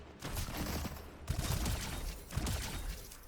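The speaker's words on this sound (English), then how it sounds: "Grenade launcher is perfect for this." A grenade launcher fires in the video game Prison Escape 2. Dense, loud rumbling blasts surge in three overlapping waves, with a short gap between the first and second burst.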